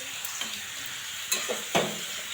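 Kohlrabi fries in a pan with turmeric and salt, giving a steady close sizzle. A few sharp scrapes and stirs of a utensil break through, the loudest near the end.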